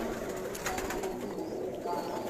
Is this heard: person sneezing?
no